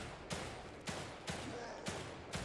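Gunfire in the survival horror game The Evil Within 2 comes as five sharp, evenly spaced shots over a dense, rumbling background, fairly quiet overall.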